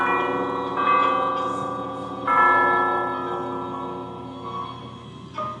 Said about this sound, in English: I have to ring the doorbell to do that